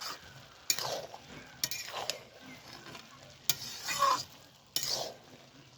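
A spoon stirs rice with ghee in a cooking pot, giving intermittent scraping strokes against the metal at an irregular rhythm, close by, with a faint sizzle underneath and no talking.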